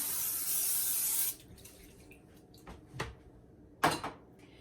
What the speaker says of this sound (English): I'm just going to spray this down a little.